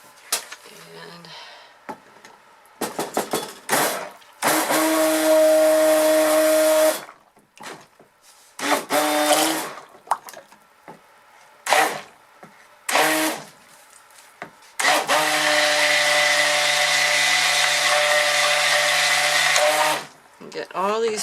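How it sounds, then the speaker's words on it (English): Stick blender mixing oatmeal, milk and honey cold process soap batter, whirring in two longer bursts and several short pulses, with a person talking in the gaps. "Let me get my stick blender here"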